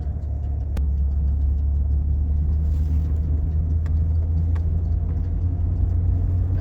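A 2001 Jeep Cherokee engine runs under throttle with a constant heavy low rumble from inside the cab, loud and steady, broken by a few faint clicks.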